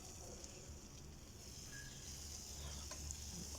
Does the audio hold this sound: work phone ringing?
no